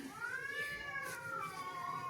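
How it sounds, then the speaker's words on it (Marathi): A cat yowls in a long, drawn-out wail that rises and falls, steady and fairly loud, with faint background noise and no talking. "तर तो मांजरांचा आहे. मांजरं खूप ओरडतात आमच्या पाठीमागच्या साईडला."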